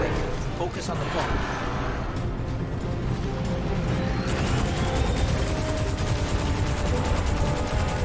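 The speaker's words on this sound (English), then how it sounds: "I'm just spraying bullets at him" Rapid gunfire sprays at an enemy in Destiny 2, a dense mechanical rattle that runs through most of the stretch amid busy game sounds, with someone talking over it.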